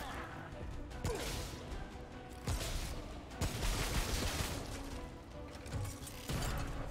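Bursts of enemy gunfire from a rattling gunner in Remnant from the Ashes, played on hard: sharp cracks and rattling volleys that come and go, fairly loud, with a voice talking over some of it.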